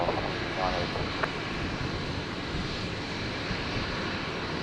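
Airliner operated by Velocity taking off from Brisbane Airport runway 01 right, a steady broadband engine roar heard from a distance, continuous throughout with a faint hiss on top.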